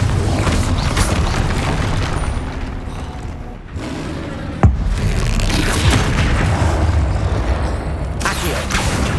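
Loud booming blasts from the Confringo spell in the Hogwarts Legacy video game during a troll fight, with dense rumbling battle noise throughout and one sharp impact near the middle.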